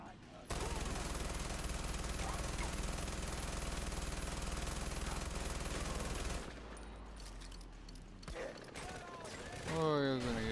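Rapid automatic gunfire in the video game Far Cry 4 on a custom map, a long unbroken rattling burst that cuts off, followed by scattered shots, clanks and a voice near the end.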